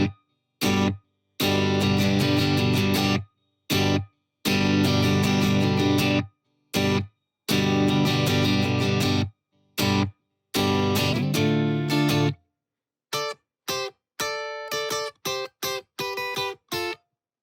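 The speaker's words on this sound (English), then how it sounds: "The pre-chorus features 2 chords and a double stop lick at the end." Distorted electric guitar plays the pre-chorus of a song: two chords struck in short bursts separated by silences, then a double-stop lick of separate picked notes at the end.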